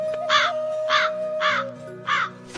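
Cartoon crow cawing, four loud evenly spaced caws close up over a steady musical drone.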